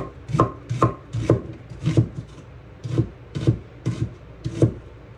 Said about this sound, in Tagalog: Iwain ko muna sibuyas.